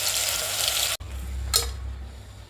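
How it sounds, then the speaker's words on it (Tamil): Mutton fries in ghee with ginger garlic paste, a loud hissing sizzle that breaks at a sharp click, then continues softer with a brief scrape of stirring. "இந்த கீயில் இந்த மட்டனை போட்டுட்டு கொஞ்சம் இஞ்சி பூண்டு பேஸ்ட் எல்லாம் போட்டுட்டு"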